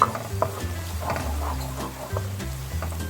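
Chopped onions browning in a pan with garlic-ginger paste for kadhi pakora give a low, steady sizzle. Stirring scrapes and light utensil clinks run through it, close up and without talk.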